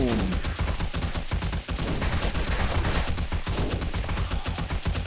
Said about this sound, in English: now I need to use my M60 bit